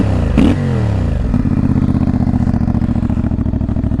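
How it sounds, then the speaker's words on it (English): An IBEX 450 motorcycle engine revs hard through its exhaust, rising sharply once and then settling into a steady, loud, rhythmic idle-like throb close by. "I gotta say that's a good sounding exhaust."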